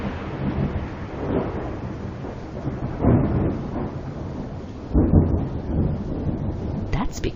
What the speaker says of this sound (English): we see the lightning first and then hear the thunder.